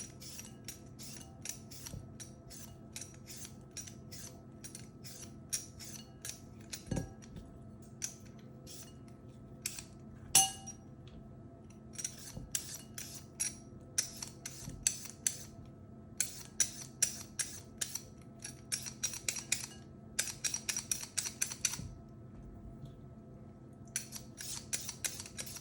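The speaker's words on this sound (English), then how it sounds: "I will peel the cucumber" A vegetable peeler scrapes the skin off a cucumber in quick clusters of short, crisp strokes close by, with brief gaps between bursts and no talking.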